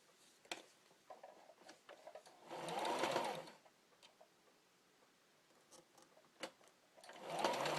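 Domestic sewing machine with a failing feeder stitching fabric for reusable baby wipes: two bursts of steady motor whir, each about a second long, separated by quieter handling clicks and taps, fairly close and heard without talk.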